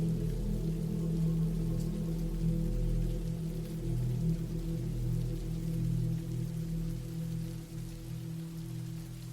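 Steady rain falls without a break for the whole stretch, a dense even hiss layered over low droning tones, with no voices.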